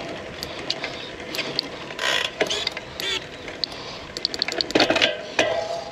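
A road bicycle's gears click and ratchet as they fail to shift cleanly during a power-meter FTP test ride. Uneven bursts of close metallic clicking and grinding come in clusters over road noise.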